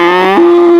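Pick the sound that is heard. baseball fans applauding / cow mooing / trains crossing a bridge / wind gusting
cow mooing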